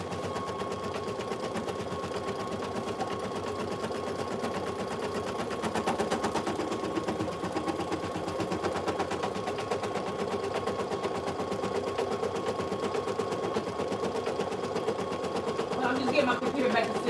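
An embroidery machine stitches down a patch with a rapid, steady mechanical rattle of needle strokes that keeps going throughout at moderate level, and faint talk is heard beneath it.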